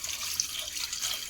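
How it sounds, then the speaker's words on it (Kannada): Water is poured into a pot of drumstick sambar, a brief soft splashing stream heard close up with no talk. "ಈಗ ನೀರು ಹಾಕೋಣ."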